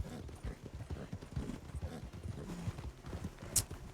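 Horse hooves clip-clop at a steady walking pace on the ground in Red Dead Online, fairly close and moderately loud, with no talking over them.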